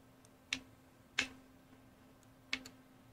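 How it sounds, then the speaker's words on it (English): Clocks tick in the horror video game The Medium as three sharp, faint clicks at irregular spacing over a quiet background hum, with no voices. "Keep hearing clocks tick."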